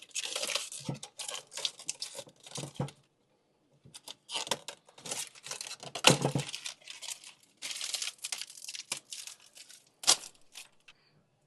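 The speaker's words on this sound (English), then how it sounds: "You can go and take off the plastic little sheet here." Thin plastic protective film peels off a bird feeder camera in short crinkling bursts, near and fairly quiet, with brief pauses between the rustles.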